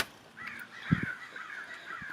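Crows caw outdoors on a warm evening, a few harsh calls rising over a quiet background, with a low thump midway through.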